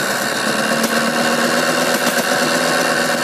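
A car engine fitted with a launch control system, held at steady high revs with a constant loud buzzing drone and no breaks, close by.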